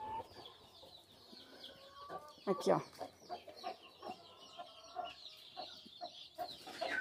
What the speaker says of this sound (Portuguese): vou mostrar pra vocês uma galinha que eu tirei já do ninho agora há pouco